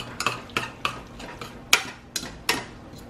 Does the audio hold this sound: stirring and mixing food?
yes